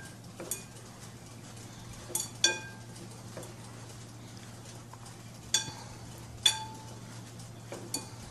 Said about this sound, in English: I will put salt, and I will put some black pepper. Okay, and I will mix.